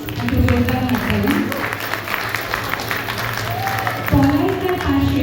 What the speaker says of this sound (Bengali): তার জন্য একটা জোরদার হাততালি